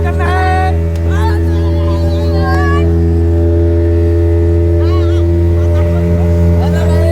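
A boat motor at Massanjore Dam drones steadily throughout a ride, a low continuous hum beneath voices and music.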